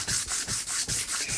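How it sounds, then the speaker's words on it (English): A bonsai tool blade is rubbed back and forth across sandpaper to flatten and sharpen it, giving about seven steady, even gritty strokes up close with no talking. "you can go through quite a bit of sandpaper when you're doing this operation"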